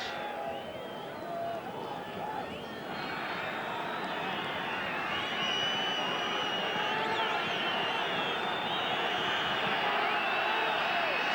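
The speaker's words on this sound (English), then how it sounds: "The crowd in a high state of frenzy." Stadium crowd roaring at the 1977 All Blacks versus British and Irish Lions third rugby test in Dunedin, a dense, sustained wall of cheering that swells steadily louder, with a commentator's voice faintly mixed in.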